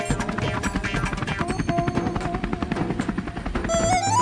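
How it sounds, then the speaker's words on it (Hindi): A helicopter in an animated Hindi cartoon, its rotor giving a fast, steady thudding chop with a high whine rising at the end, loud and close with no speech. "मम्मी, ये हेलीकॉप्टर हिल क्यों रहा है?"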